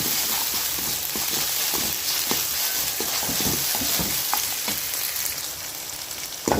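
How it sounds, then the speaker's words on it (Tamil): Chopped onions sauté with rock salt in a hot pan, giving a steady close sizzle with occasional stirring scrapes and clicks throughout, no voices. "கல் உப்பு சேர்த்து நான் வெங்காயத்தை வதக்கி வச்சுக்கிறேன்"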